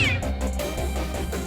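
A domestic cat meows loudly and close, a drawn-out cry over a steady low hum of background music.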